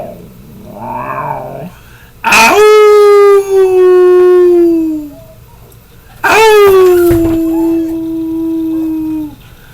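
A person imitates a wolf on Halloween night, letting out two long, loud howls that slide downward, each lasting a few seconds and separated by a pause, with a brief voice before the first.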